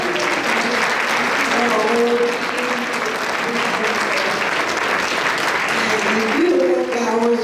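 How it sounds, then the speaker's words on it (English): Loud, sustained applause from an audience honoring a speaker, a dense, even clapping wash that runs throughout with slight swells. "Please join me in giving her another round of applause."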